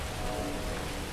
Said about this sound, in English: Nice and rainy